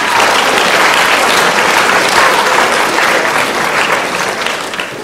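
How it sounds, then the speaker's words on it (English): Crowd at a school sports awards ceremony breaks into a loud, dense round of applause, sustained near the listener before gradually tapering off toward the end. "Let's give him a round of applause."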